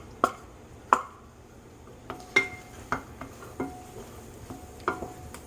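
Half a cup of finely chopped onion goes into a pan with about a tablespoon of melted butter, with sharp utensil knocks and stirring clatter in an irregular rhythm over a faint, low sizzle.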